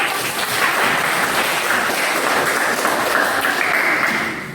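A classroom of students applauds during a teaching practice lesson, with dense, steady clapping lasting a few seconds before it tapers off.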